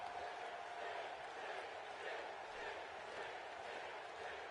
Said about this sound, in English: Crowd really getting behind Sting here.